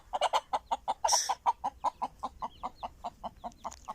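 A hen gives a rapid, steady series of close clucks, about four or five per second, at a farmyard dacha, with one brief louder squawk near the start.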